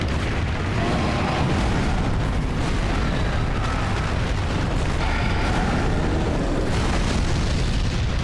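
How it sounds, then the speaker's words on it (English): A demon's big exploding smash attack in Dark Souls 3, a dense, continuous roaring blast of explosive rumble and crackle that stays loud throughout without a break. "that seems to tire them out when they do the big exploding smash"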